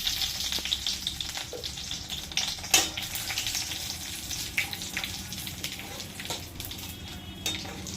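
Garam masala, dried red chilli, cumin and bay leaves sizzle and crackle steadily in hot oil, a close, continuous frying hiss with small pops and the occasional clink of a utensil.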